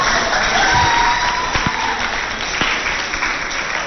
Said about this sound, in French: Si vous pouvez applaudir un peu.